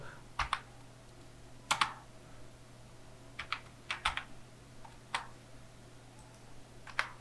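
Computer keyboard typing while an online form is filled in: irregular, close keystrokes come singly and in small clusters with pauses between, and no one speaks.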